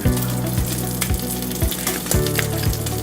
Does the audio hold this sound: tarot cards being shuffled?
no